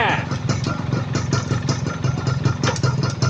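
A GTO 125 motorcycle engine runs in fifth gear with a steady, rapid idle-like chug and mechanical clatter, close and moderately loud.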